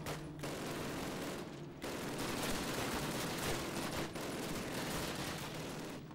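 Sustained machine gun fire in Call of Duty, a dense unbroken roar of rapid shots with a few brief lulls, loud and close throughout.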